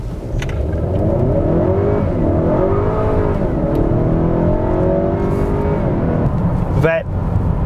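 Honda Accord 2.0 turbo running an ethanol flex-fuel blend of about 46 percent, heard from inside as the engine pulls hard under steady acceleration, a loud continuous drone with rising tone, briefly broken by a short squeak near the end.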